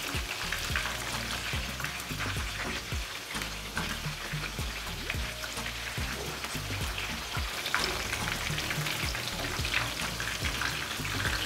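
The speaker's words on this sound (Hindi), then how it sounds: "तो अभी हम चिकन को अच्छे से फ्राई कर लेंगे मज़ीद तकरीबन 4 से 5 मिनट के लिए मीडियम फ्लेम पे" Chicken fries in a pan over a medium flame, giving a continuous crackling sizzle with dense popping and occasional spoon stirring and scraping, steady and fairly quiet throughout.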